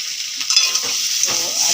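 Egg curry sizzles and fries in a pan while a utensil stirs it, giving a bright continuous crackle broken by several short scraping strokes, close and with no voices.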